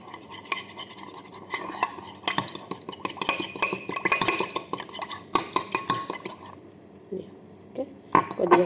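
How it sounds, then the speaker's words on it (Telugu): Salad sauce being whisked in a bowl with a utensil, producing brisk, irregular clinking and scraping strokes, moderately close, with a voice speaking in the background. "బాగా ఇలా ఇచ్చలా కొట్టుకోవాలి. ఎందుకంటే సలాతాకి సోస్ బాగా మిక్స్ అయితేనే బాగుంటుంది"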